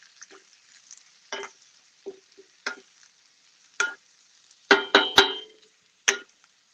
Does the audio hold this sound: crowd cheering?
no